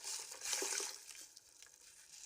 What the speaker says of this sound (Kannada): ಮಿಕ್ಸಿ ಜಾರಿಗೆ ಸ್ವಲ್ಪ ನೀರು ಹಾಕಿ ಕಲಸಿ ಹಾಕ್ಕೊಳ್ತೇನೆ.